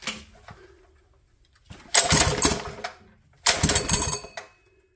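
Honda GX200/GX160 small single-cylinder engine fitted with a wooden laser-cut connecting rod, revved twice with the throttle in two loud roaring bursts of about a second each, separated by a near-silent idle gap, close up.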